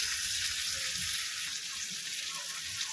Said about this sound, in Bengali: তিল ধোয়া জলটা একটু দিয়ে দিলাম।